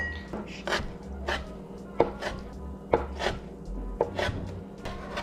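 Pickles are diced with a knife on a board, a brisk series of close, crisp chops at an uneven rhythm, roughly a dozen strikes, quiet otherwise.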